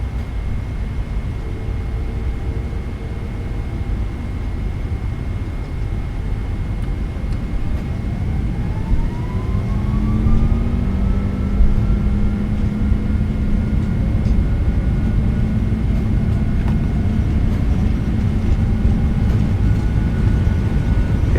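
A PMDG British Airways Boeing 777-236(ER) in Microsoft Flight Simulator 2024 spooling up for takeoff at Bangkok Suvarnabhumi, a steady engine roar with whining tones rising in pitch as thrust builds.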